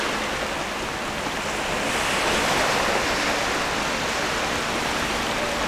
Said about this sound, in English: I could just stand here all day and listen to the waves come in.